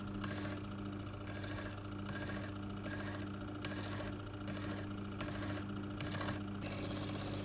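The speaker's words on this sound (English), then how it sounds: "So while it spins, I just shave it like this, shape it to a round end." Hand file rasping against a fountain pen blank spinning on a lathe, shaping a rounded end: steady repeated rasping strokes, about a dozen bright bursts in even rhythm over a constant motor hum, close and fairly loud.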